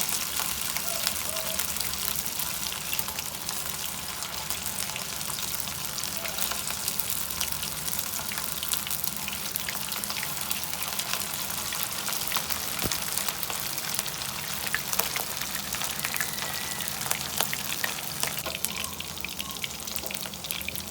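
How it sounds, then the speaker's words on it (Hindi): Kebab patties sizzling in hot ghee in a pan over medium heat, a steady broadband frying hiss that runs the whole time with faint crackles and no speech over it. "घी गर्म हो गया और बिस्मिल्लाह करते जाएंगे और इस तरह ये कबाब इसमें डालते जाएंगे।"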